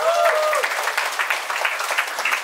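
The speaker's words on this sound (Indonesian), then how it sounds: "Tepuk tangan, mari jauh." Lively applause from children at an English and character camp in Depok, a close, dense burst of many small hands clapping that holds steady for a couple of seconds, with a brief whistle-like tone at the start.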